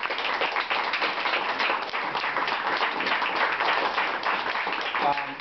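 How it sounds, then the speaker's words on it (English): An audience at a wall signing event in Avondale, Arizona gives a steady, dense round of applause that holds at an even level throughout, with no voices breaking through. "So let's give the University of Phoenix a round of applause"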